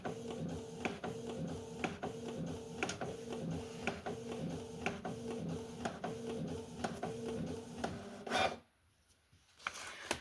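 A printer running a PDF booklet job, a close, steady rhythm of repeated mechanical passes and clicks lasting about eight seconds before it stops abruptly into near silence.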